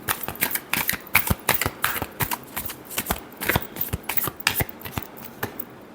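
Tarot cards being shuffled by hand for an Aries love reading, a steady run of quick crisp riffling snaps and flutters, close and fairly loud, with no talking.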